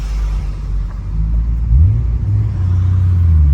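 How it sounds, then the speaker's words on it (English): A 1995 Nissan Skyline GT-R R33 V-Spec with its RB26 engine, a deep steady idle rumble close by that rises slightly partway through, loud and alone with no talk. "unmistakable RB26 sound"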